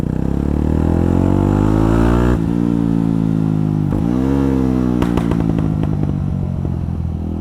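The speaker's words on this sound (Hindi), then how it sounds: "बैकफायर सुनते जाओ भाई।" A Jawa 42 Bobber motorcycle engine, fitted with a fuel tuning module, revs up loud and close with a climbing then falling pitch, followed by a rapid series of sharp crackling backfire pops as the revs drop.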